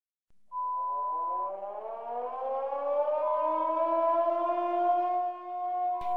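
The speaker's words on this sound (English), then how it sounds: "At 8 a.m. on December 7, 1941, the air raid sirens blasted." A civil defense air raid siren wails loud and alone on the morning of the December 7, 1941 Pearl Harbor attack, its rising tone climbing and holding steady for several seconds.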